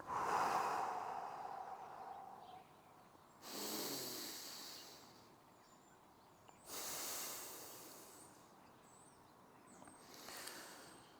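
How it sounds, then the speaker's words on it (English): Slow, deep breaths taken during a hip mobility exercise session, several long hissing inhales and exhales spaced a few seconds apart, close and fairly quiet with no talking. "Should be about 5 to 6 really slow breaths here."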